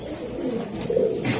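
Hammer silver Giribaz pigeons cooing close by, soft low throaty coos repeating over a brief stretch with faint background noise.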